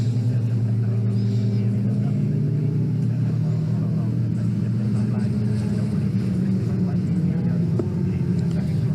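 Jazz Sapra's BMW race car coming in on the lead lap at Donington Park, a loud, continuous engine drone and rumble with a commentator talking over it.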